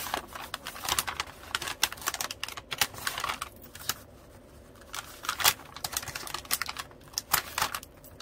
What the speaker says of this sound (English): First I'm going to cut off these little handles.